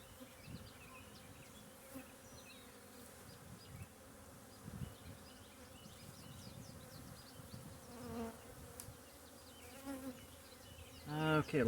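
Honeybees buzz quietly around an open hive during a spring inspection, a faint, continuous hum with occasional louder passes as individual bees fly near.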